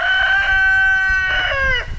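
A rooster crows loudly and close by, one long drawn-out cock-a-doodle-doo that rises and trails off near the end.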